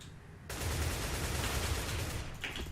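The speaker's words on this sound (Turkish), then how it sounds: "Adamı iyi vurdum ben işte." Gunfire in CS:GO breaks out as a dense, rapid burst of automatic shots that starts abruptly and keeps going for about two seconds over low background game noise.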